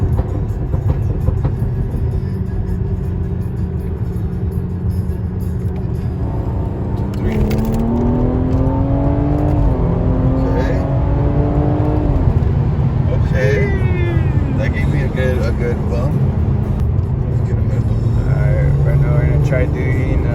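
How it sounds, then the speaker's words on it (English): A BMW F30 with the B58 engine revs while rolling, its engine tone climbing and falling in several pitch sweeps over a steady low drone, with someone talking over parts of it. "Rolling anti-lag."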